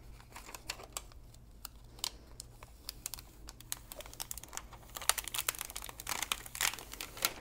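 Layered heat-transfer vinyl being peeled up from a wreath design, giving faint crinkly crackles and sharp peeling ticks that grow denser and louder toward the end.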